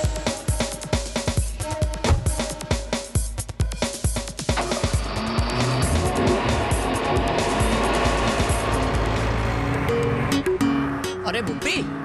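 A car driving along, its engine and road noise a steady loud rumble, preceded by a run of sharp clattering knocks; no words are spoken.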